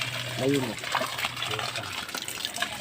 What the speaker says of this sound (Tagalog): kumukuha na siya ng tubig. Ang ating manual pump na poso.